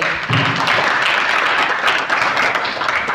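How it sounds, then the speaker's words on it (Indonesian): A Hindu youth community gathering in Tangerang breaks into applause at an anniversary celebration, a short, loud burst of many hands clapping together under faint voices. "Tepuk tangan"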